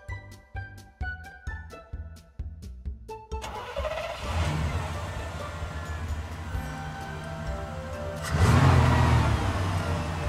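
A vintage fire engine cranks over several times in rhythmic bursts, then catches and settles into a steady, loud idle that swells once more near the end.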